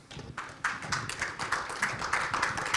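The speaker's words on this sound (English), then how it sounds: "Guillaume, let's welcome our guests with applause, please" An audience greets the guests of a health tech panel discussion with applause, scattered claps building into a short burst of clapping in a room, several hands audible individually.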